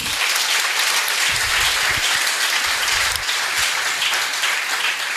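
Sustained audience applause at a bench unveiling ceremony in Cape Flats, dense steady clapping from a crowd filling the whole stretch at an even, loud level.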